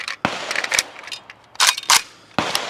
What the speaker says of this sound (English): Let me just hose this mag again because now we're using a slightly different ammo.